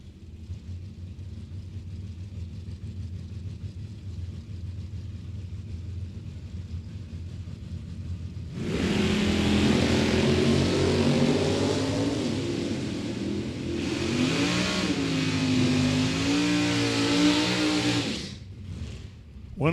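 Drag racing door cars at Mid Michigan Motorplex, low rumble of idling engines that suddenly bursts into loud roaring launches, engines screaming for several seconds before cutting off abruptly.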